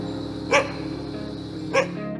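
A wolf gives two short, sharp barks about a second apart over a low steady background hum, moderately distant and not very loud.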